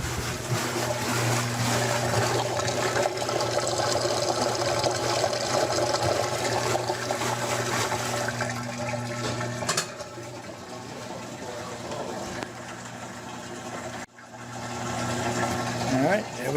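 A GE top-load washing machine pumps water down the drain with a steady, loud whooshing rush and low motor hum that drops slightly partway through, near and continuous.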